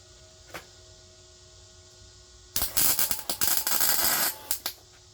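Welding on an aluminum boat trailer: after a quiet hum and a brief click, a loud crackling, sputtering arc starts and runs for about two seconds with uneven bursts, then tapers off.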